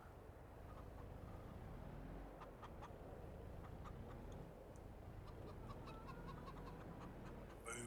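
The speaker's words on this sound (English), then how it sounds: "just top the chickens up" Chickens clucking in Farming Simulator 22 on a small farm, a steady flock murmur with scattered short clucks and calls over a constant ambient bed, moderately near and fairly quiet.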